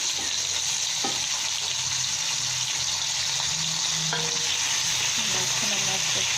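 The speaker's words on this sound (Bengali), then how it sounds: "কড়াইতে আমি শুটকিগুলো দিয়ে দিচ্ছি।" Dried lotka fish (shutki) frying in a wok gives a loud, continuous sizzle close at hand, with a few faint clinks and stirring sounds over the steady crackle, and no voices.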